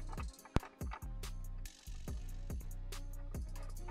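A large bolt is threaded by hand into a Seat Ibiza MK3 interior during an armrest install, giving a close, steady run of rapid ratcheting clicks with a few louder knocks.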